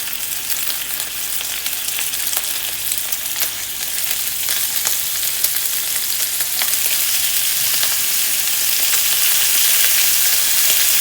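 Pork tenderloin frying in hot vegetable oil in a frying pan gives a loud, steady close sizzle with crackling spits that builds slightly over time, with no voices.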